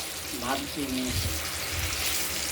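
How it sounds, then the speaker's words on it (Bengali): Pointed gourd stuffed with mustard and poppy seed paste fries in oil in a wok, giving a steady close sizzle throughout while a person talks over the start. "পটলের ভেতরে সর্ষে পোস্ত ভরে কড়াইতে তেলে ভাজা"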